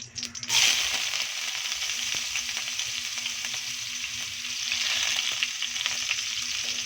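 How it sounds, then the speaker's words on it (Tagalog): Ginger sautéing in hot oil for a spicy squid dish: a steady, close, bright sizzle with fine crackling that runs unbroken for about seven seconds, with no voices. "Mantika para maigisa natin yung ganyan. Lalagay na natin yung ginger."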